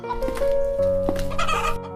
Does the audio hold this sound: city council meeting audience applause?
no